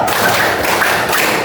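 Group of students clapping together in a classroom counseling session, a dense, steady wash of hand claps and thumps at close range with no voices.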